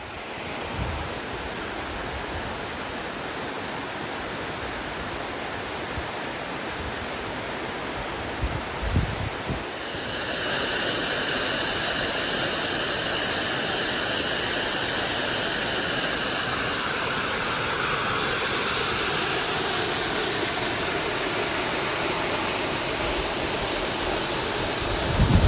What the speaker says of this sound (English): we can see the Maple Springs branch falls right there through all the trees